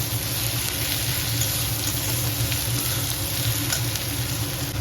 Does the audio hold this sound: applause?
no